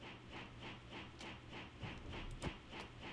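A train runs along a narrow gauge railway in a video game server, with a steady rhythmic clickety-clack of wheels over rail joints and a soft hiss, moderately quiet and continuous, with a couple of sharper clanks near the end.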